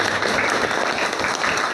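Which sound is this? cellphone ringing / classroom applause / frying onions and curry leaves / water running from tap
classroom applause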